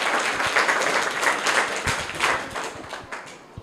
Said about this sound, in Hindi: उत्सव शुक्ला जो हमारे फर्स्ट विजेता है, इनके लिए जोरदार तालियां हो जाए।